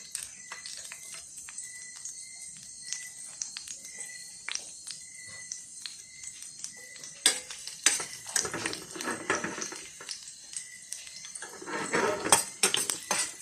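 Utensil scraping and clinking in a pan while frog adobo in coconut milk is stirred, a steady patter of small taps that grows into louder, busier scraping toward the end, with insect-like chirping in the background.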